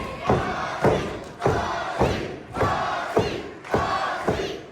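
A live independent wrestling crowd at a Port St. Lucie, Florida show roars and cheers in loud, repeated surges, with heavy thuds from the ring landing about every half second to second.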